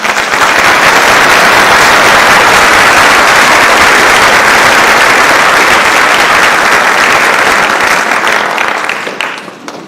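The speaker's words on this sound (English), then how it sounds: "Let's give a round of applause for this team" Loud, sustained applause from a large audience for a team of scholarship recipients at a high school class night in May 2022, a dense wash of clapping that holds steady for about nine seconds before tapering off.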